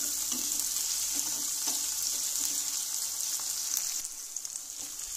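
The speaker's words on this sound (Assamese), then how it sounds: "আৰু এতিয়া পিঁয়াজ আৰু আদা নহৰুখিনি এতিয়া অকণমান ভাজি ল'ম" Chopped onion and ginger-garlic paste fry in hot oil with a dense, steady sizzle throughout, easing slightly toward the end.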